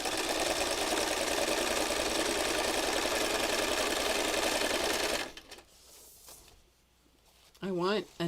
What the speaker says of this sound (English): Still free motion stitching.